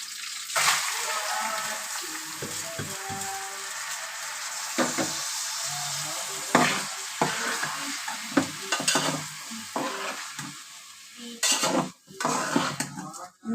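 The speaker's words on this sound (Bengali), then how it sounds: "চাল কিছুক্ষণ ভেজে নেব।" Washed rice for rice biryani fries in a pan and is stirred with a utensil, a steady sizzle broken by repeated scraping and clinking strokes against the metal.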